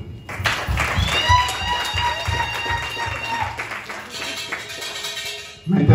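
Guests at a Christian wedding ceremony break into applause, a steady patter of clapping with some voices mixed in, fading near the end before a louder thump.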